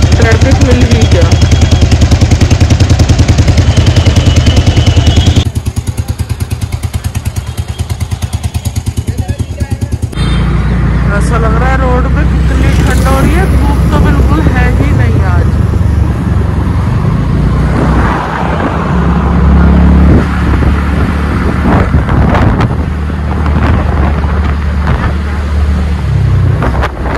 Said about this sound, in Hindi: देखो यहाँ पर भी ट्रैफिक है ही है।